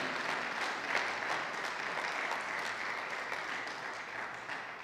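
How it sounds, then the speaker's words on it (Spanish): Steady applause from a church congregation during a Spanish-language sermon, sustained and even for about five seconds with a dense clatter of many hands, no speech over it. "Alguien aplauda a Dios."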